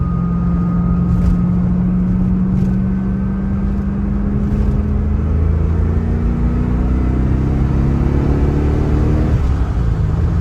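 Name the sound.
sports car engine revving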